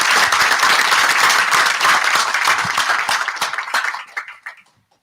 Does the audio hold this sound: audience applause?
yes